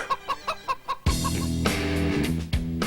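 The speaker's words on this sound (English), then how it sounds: "or play them with chicken noises over them or something" Clucking chicken noises play over music on a radio show: a string of short rhythmic clucks comes first, then a loud music passage starts and the clucking carries on over it.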